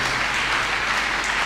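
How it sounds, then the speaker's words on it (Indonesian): A crowd applauds at an Indonesian community event on stunting prevention in Kediri, a dense, even burst of many hands clapping, close and continuous for the whole brief moment. "Tepuk tangan dulu itu Kediri"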